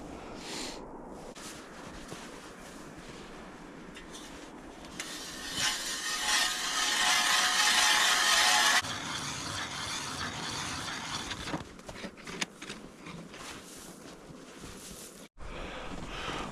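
Hand ice auger grinding down through thick lake ice while out fishing for northern pike, a rasping, scraping drill with a louder, harsher stretch in the middle, followed by scuffing and knocks, with no talking.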